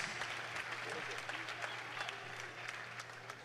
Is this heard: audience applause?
yes